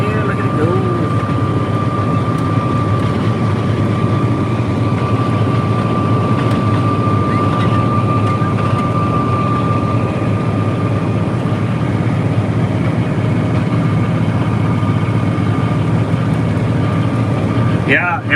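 A tractor engine runs with a snow blower clearing snow, a loud, steady, unbroken drone with a faint whine held constant throughout, close by and uninterrupted.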